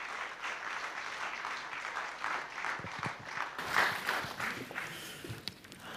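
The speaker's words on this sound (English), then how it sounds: "Round of applause, please." An audience applauds after a speaker's introduction at a professional business talk, a sustained patter of clapping that swells midway and then thins toward the end.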